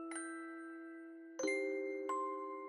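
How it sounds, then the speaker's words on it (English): A doorbell rings with three bright chime strikes, the first two spaced apart and the third following quickly, each tone ringing on and decaying slowly in a quiet room. "May nag-doorbell?"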